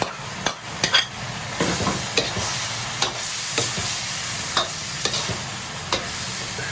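Side dishes go into a hot wok of stir-fried pig tongue. A steady loud sizzle runs throughout, broken by sharp, irregular clacks of the spatula scraping and tossing.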